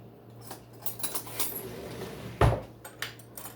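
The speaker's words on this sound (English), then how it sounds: "Let me get a little spoon first." Metal cutlery rattles and clinks as a small spoon is pulled from a kitchen drawer, light jangles building to one sharp clatter, then a few softer taps.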